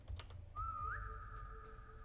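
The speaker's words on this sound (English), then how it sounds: "Alright, I just whistled." A person whistles a single sustained note that rises slightly and then holds steady, heard alone and fairly close after a few soft tapping clicks, in the Roblox game SCP 3008.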